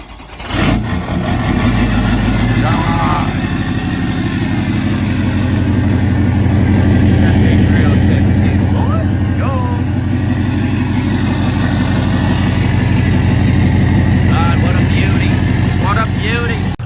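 A pickup truck engine with mufflers needing replacement turns over and settles into a steady, rumbling idle that runs throughout, loud and close, with voices talking over it.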